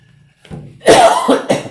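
A person with a slight cold gives a loud, close cough in two or three rough bursts after a short throat sound.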